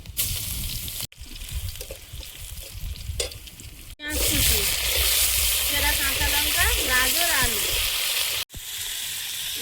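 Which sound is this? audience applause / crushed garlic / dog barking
crushed garlic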